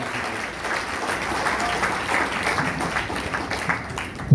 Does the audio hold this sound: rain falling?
no